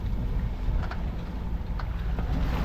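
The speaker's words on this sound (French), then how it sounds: "Il y a 6 nœuds de vent." Steady wind in a light six-knot breeze, mixed with water washing against the hull of a racing sailboat at sea during a transatlantic race. The rush is continuous and close, with no voices.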